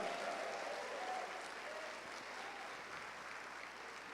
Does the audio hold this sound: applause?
yes